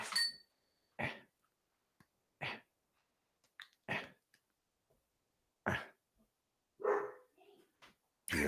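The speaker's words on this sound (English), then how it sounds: "That was a well-placed bark." A dog gives a few short, sharp barks scattered among quiet gaps, fairly faint and distant-sounding, with brief throat-clearing-like bursts nearby.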